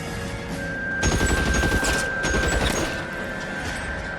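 Loud gunfire erupts in the video game L.A. Noire, a dense burst of rapid shots lasting about two seconds, then a short lull before a few more rounds.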